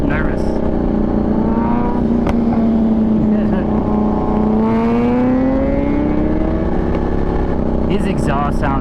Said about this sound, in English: His exhaust sounds insane. I really like the sound of it.